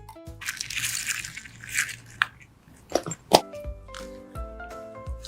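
Pink and purple makeup slime mixed with artificial snow and water squishes and crackles up close, with sharp popping bursts scattered among softer wet squelches.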